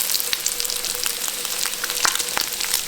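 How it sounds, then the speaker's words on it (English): Bacon frying in a pan for breakfast: a steady, close crackling sizzle peppered with sharp pops and spits, with no voices. "Good smoking bacon there"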